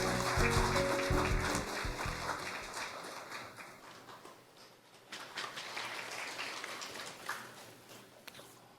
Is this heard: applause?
yes